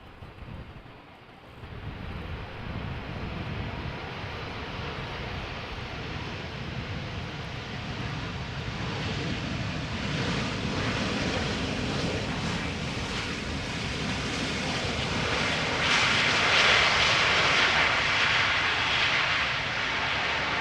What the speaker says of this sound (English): British Airways Flight 430 arriving from London Heathrow.